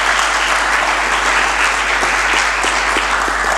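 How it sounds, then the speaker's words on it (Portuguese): An audience at a legal forum in Lisbon breaks into loud, continuous applause, a close, dense wash of clapping that holds steady for the whole stretch. "a quem peço uma salva de palmas"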